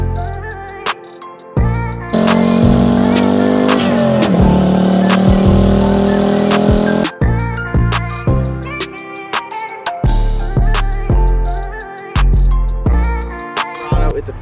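650 horsepower turbocharged LS-swapped Chevrolet Colorado with a 5-speed manual, loud close engine revving with a sustained high-rpm pull, then choppy bursts and cuts of throttle in quick rhythmic succession, abrupt stops between blips.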